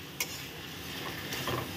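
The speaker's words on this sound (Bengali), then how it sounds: "দিয়ে আমি এটাকে এখন কষিয়ে নেব" Vegetables, potato and raw green banana, sautéing in a pan with a ginger, onion and garlic spice paste: a steady soft sizzle with brief scraping stirs, close and moderately loud, no talk.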